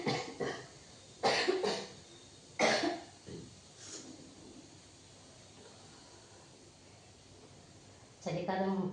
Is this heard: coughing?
yes